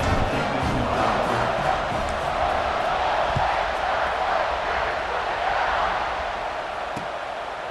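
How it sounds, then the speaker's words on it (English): Stadium crowd in the College Football 26 video game, Ohio State versus Texas, roaring and cheering steadily at full volume throughout, a dense continuous wash of noise with a few sharp accents, fading slightly at the end. "this crowd is feeling themselves after that last drive"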